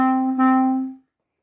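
A clarinet sounds a single steady, pure note for about a second before cutting off cleanly into silence.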